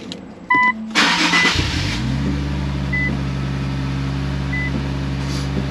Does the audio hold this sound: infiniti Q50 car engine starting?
yes